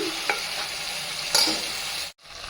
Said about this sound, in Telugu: ఇది ఇప్పుడు బాగా కలుపుకొని మసాలా మొత్తం ఉడికించుకోవాలన్నమాట